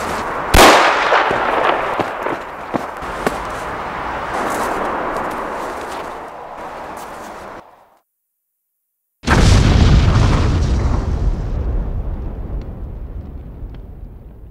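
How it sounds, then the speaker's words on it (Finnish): Warning gunshots from a Finnish advertising drama: a sharp report opens a long, dense stretch of booming and crackling blasts, then a brief dead silence before another loud, sustained rumbling burst that slowly fades. "No siinä tapauksessa lienee parasta, että ammun muutaman varoituslaukauksen."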